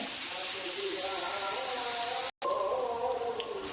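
Brinjal sautés in a hot pan with a steady, close hiss and gentle sizzle, briefly cut off near the middle, while a voice talks over the cooking noise.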